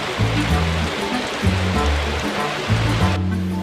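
Hollow plastic shade balls, four inches across and weighted with water, pour into a city reservoir. The result is a loud, continuous rushing wash with rhythmic pulses, like a stream or surf, heard alone throughout.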